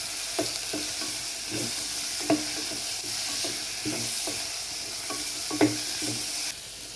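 Tomatoes, coriander, mint and other vegetables for semiya kichadi frying in a pan, a steady close sizzle with periodic scraping stirs of the spoon, no voices.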